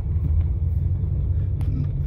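Low rumble of a Chevy truck rolling past on the street, a steady engine drone close by with no talking over it.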